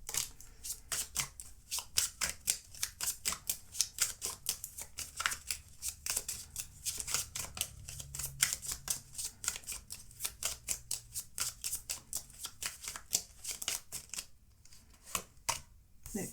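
Oracle cards shuffled for a tarot reading, a rapid run of crisp riffling flicks and slaps repeating steadily for several seconds, close and fairly loud with no talk over it.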